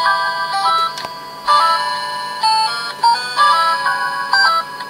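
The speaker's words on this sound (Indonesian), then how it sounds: "Jadi ada suara telepon pertama ya, untuk nada deringnya seperti itu." Electronic ringtone melody from a Bandai DX Zeztz Phone Kamen Rider toy, a bright synthesized tune in repeating bursts with short pauses, loud and close, with no voices.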